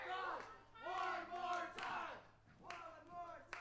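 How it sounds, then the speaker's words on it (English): Wrestling crowd at a live independent show in Paulsboro, New Jersey, roaring and chanting in sustained waves of loud shouting, with a couple of sharper surges near the end. "The crowd is bloodthirsty."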